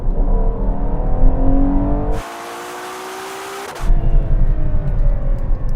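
SUVs launching off the line in a drag race, loud engines revving and rising in pitch, cut by a short gap of muffled whine before the roaring acceleration returns.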